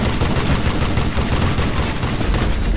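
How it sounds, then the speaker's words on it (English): In the Western shooter game Call of Juarez Gunslinger, a Gatling gun fires a loud, continuous rapid stream of shots, the dense rattling barrage sustained without pause from start to finish. "It's always fun to shoot a Gatling gun."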